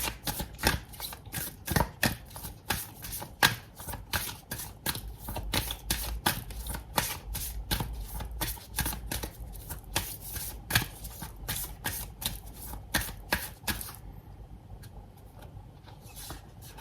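Tarot cards riffled and shuffled in a long, dense run of rapid crisp flicks that goes on for about fourteen seconds before tailing off into near quiet.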